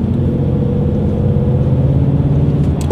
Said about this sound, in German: Hier ist das richtig Ami V8.